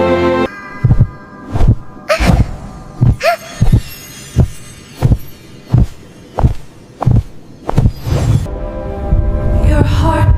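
Heartbeat in an animated children's story, loud, deep thumps about one per second in a steady rhythm, with faint music building beneath toward the end.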